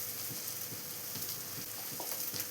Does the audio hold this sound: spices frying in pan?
yes